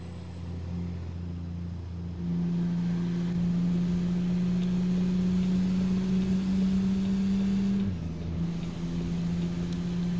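Heavy truck engines drone steadily in American Truck Simulator, a low sustained rumble that steps up in pitch partway through and drops again near the end, with no talk over it.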